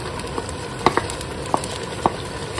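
Meat for Balti gosht sautéing in a pan, a steady close sizzle broken by a few sharp clinks and scrapes of stirring.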